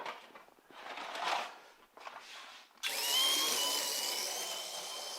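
Ferrari 308 slot car motor run at 24 volts: after some rough scuffing and handling noise, a sudden high electric whine starts and holds loud and steady, close by.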